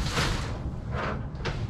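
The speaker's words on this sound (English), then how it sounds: "using my bulkhead door to open." A cargo van's bulkhead door opening during courier delivery work, giving a short sliding scrape with a second sliding burst about a second later, close and moderately loud.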